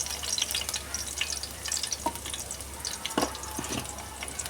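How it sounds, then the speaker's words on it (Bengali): Chopped garlic fries in a pan with a soft, continuous sizzle, broken by a few sharp scrapes and clinks of a spatula stirring it, fairly quiet and without talk. "রসুনটা একটু ভাজা ভাজা হয়ে গেছে"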